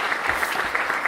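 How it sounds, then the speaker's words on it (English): Brief, uneven clapping from a crowd at a corporate headquarters announcement in Richmond, Virginia, greeting a state senator, a short second-long burst of scattered hands at moderate volume. "Give her a great round of applause."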